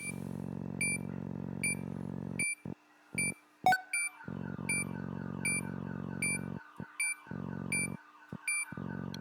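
An alarm in the video game Replaced sounds as a repeating pulsed electronic tone with regular high beeps layered over it, broken by short gaps, steady and fairly faint, with no voices.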